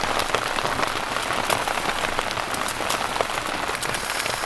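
Steady, dense rain pours down on a forest campsite, a constant hiss of drops pattering on a surface with no other sounds.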